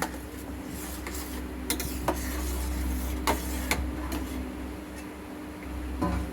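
Boiled rice and milk stirred in a pot for payesh: soft scraping spoon strokes with light ticks against the pot, close and fairly quiet, over a steady low hum.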